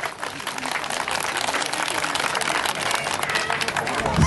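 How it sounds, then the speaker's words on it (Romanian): Applause from a crowd gathered at an outdoor music festival in a Romanian village, sustained and dense clapping that grows slightly louder toward the end, with voices underneath. "Aplauze, vă rog!"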